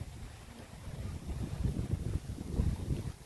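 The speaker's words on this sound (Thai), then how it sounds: "ลมพัดค่อนข้างแรงครับ" Fairly strong wind blows across an outdoor farm planted with palm trees, a steady low rumbling roar with gusty surges and buffeting on the microphone, no voices heard.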